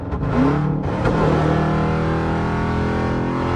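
A modified 5.7 Jeep on a highway gives a loud, steady exhaust roar with a brief rising rev near the start, then a sustained drone close to the listener with no speech.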